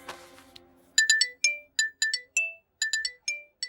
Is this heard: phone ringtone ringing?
yes